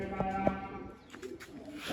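A large pigeon coos nearby, a few soft throaty tones early on, followed by quieter background rustle and faint bird sounds.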